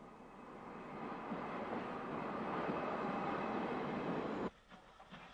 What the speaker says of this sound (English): Rail cars from first Sligo and then Galway are near the end of their long journeys.